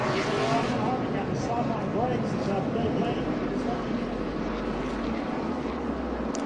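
Race cars pulling off pit road under caution at the Daytona 500, a dense, distant engine roar that rumbles continuously beneath a commentator's voice talking throughout.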